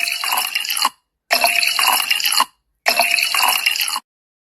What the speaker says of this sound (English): Let's hear how the wine sounds when she's pouring it in the glass.